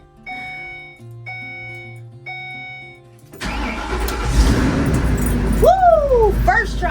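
A shuttle bus in a garage sounds several evenly spaced dashboard chimes, then its engine cranks and catches, settling into a loud, close running rumble while a voice calls out over it.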